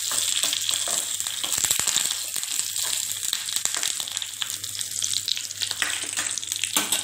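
Whole spices for a tadka crackle and sizzle steadily in hot oil, a dense, close frying hiss with occasional sharper pops.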